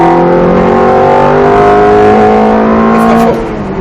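A car accelerates hard through a steering input on a race track, its engine note steady and loud with rising harmonic tones, easing slightly near the end.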